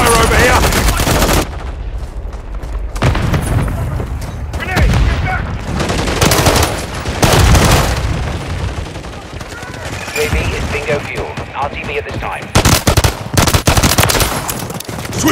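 Loud, nearly continuous automatic gunfire from a video game rattles in dense volleys with occasional heavier booms, overlaid with radio-style voices.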